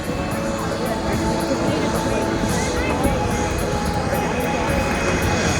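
An RAAF F/A-18 Hornet jet taxiing in at an air show, giving a loud, steady jet-engine roar with a constant high whine held across the whole stretch.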